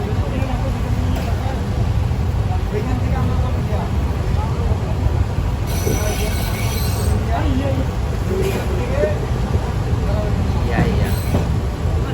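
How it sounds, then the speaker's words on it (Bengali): Steady rumbling train noise fills the whole stretch, a continuous rolling roar with some clattering and higher rattles as the Dolonchapa Express departs Pirganj railway station. "আমরা এই মুহূর্তে চলে যাচ্ছি পীরগঞ্জ রেলওয়ে স্টেশন"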